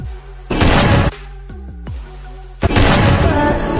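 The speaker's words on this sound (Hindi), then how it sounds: "आपको एकदम हेडशॉट का मस्त साउंड आने लगेगा" Video game gunfire from Free Fire: loud, sharp shot bursts open and close the short stretch, with a ringing metallic ping and a quieter echoing tail in between, no talking.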